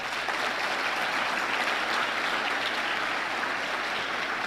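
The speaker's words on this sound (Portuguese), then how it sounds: "Quero que você aplauda Jesus por isso." A church congregation applauding during a sermon, dense sustained clapping from a large crowd that fills the space evenly and loudly for the whole stretch.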